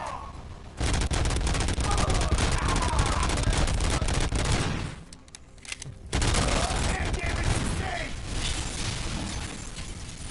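A combat shotgun fires in RoboCop: Rogue City, heavy blasts in a dense run with mechanical clatter and shattering, loud and close, a short lull midway, then more shooting as a voice talks.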